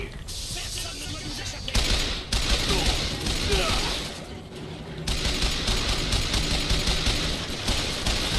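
Submachine gun fire in the first-person shooter Bioshock Infinite, several sustained bursts of rapid shots with brief pauses between them amid busy game sounds.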